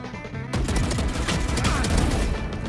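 Automatic gunfire in the video game Valorant rattles in a dense, rapid burst that begins abruptly and continues without pause, loud and close.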